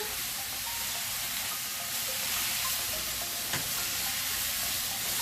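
Beef and broccoli stir-fry sizzling steadily in a hot pan, a continuous loud hiss and crackle with brief bursts as the food is tossed, no voices.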